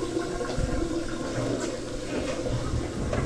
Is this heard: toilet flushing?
yes